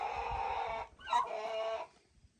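Hens on a pumpkin farm cluck in two short nearby bursts, the second with a higher squawk, over quiet background.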